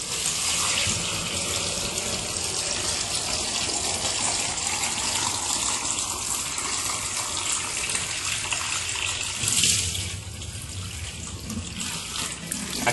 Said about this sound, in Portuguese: abrir a torneira e deixar embaixo da água durante 10 segundos